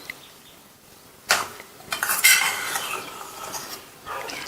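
A spoon stirring flattened rice in coconut milk with jaggery syrup and cardamom powder, with a few close scraping clinks against the pan and no talk.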